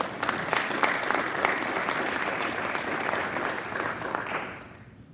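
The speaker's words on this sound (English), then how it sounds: "I'd like to applaud everyone in this room for that" Warm, sustained applause from a roomful of Rotary club members at a meeting, even and fairly distant, tapering off and fading out at the end.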